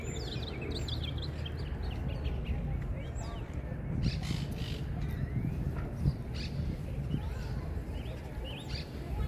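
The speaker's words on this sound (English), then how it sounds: "Do you see these little birdies?" Busy, high chirping from parakeets in Green-Wood Cemetery, Brooklyn, scattered throughout over steady outdoor rumble and a murmur of voices.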